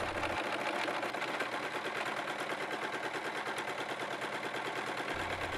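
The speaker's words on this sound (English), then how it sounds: "sew all the way around the top of the stocking until you reach the other edge" A sewing machine stitches around the top cuff of a knitted stocking, a steady fast mechanical chatter close by that runs nearly the whole time.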